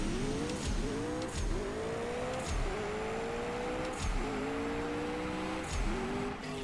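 Racing car in the CSR2 mobile game accelerating hard through second and third gears, engine pitch climbing in repeated rising sweeps broken by gear-shift dips, ending in a sustained nitrous-boosted run, loud and close with no talk.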